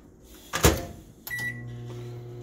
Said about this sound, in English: Start our microwave.